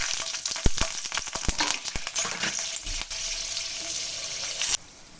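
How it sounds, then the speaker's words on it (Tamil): Onion and chillies fry in hot oil for a village fish curry, a soft crackling sizzle broken by sharp stirring clicks and pops, ending abruptly. "இப்போ நம்ம வெங்காயம் ஆட் பண்ணிட்டோம்."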